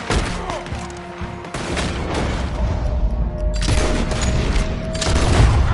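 Video game gunfire: loud, close volleys of shots and booming impacts in repeated bursts over a rumbling battle background.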